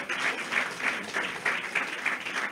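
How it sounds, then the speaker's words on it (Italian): Steady clapping from a crowd at a political campaign presentation in Rivarolo, heard at moderate distance with a pulsing rhythm as hands beat together. "Dai un applauso a Riccardo"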